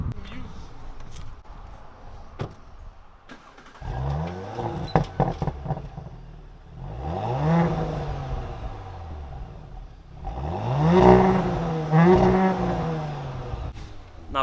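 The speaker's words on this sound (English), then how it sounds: "show me this S4's exhaust system" An Audi S4's factory exhaust rumbles and revs in several rising and falling bursts, getting louder toward the end, while people talk over it.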